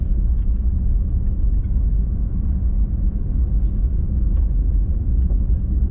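A car drives along a flat gravel road in central Kansas, giving a loud, continuous low rumble of tires on gravel and engine drone from inside the vehicle.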